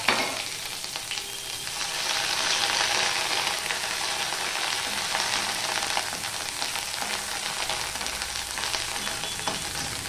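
Grated ginger sizzles in a hot spice tempering, a dense continuous frying hiss with stirring, close and steady throughout with no pause.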